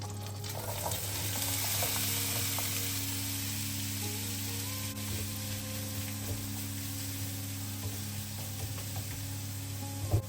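Chopped apples fry gently in about 30 grams of melted butter in a pan, a soft, steady sizzle with occasional scraping and clicking from stirring, close and fairly quiet, ending on a sharp knock.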